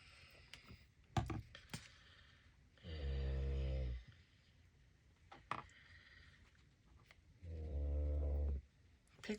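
A pet snoring on the floor: two long, deep, rumbling snores several seconds apart, with light clicks and tapping of craft work in between, fairly quiet and close.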